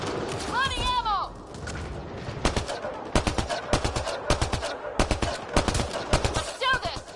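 Rapid gunfire fills a Mass Effect Andromeda firefight, sharp shots and bursts cracking close and loud in irregular clusters, with a voice and other battle noise in the mix.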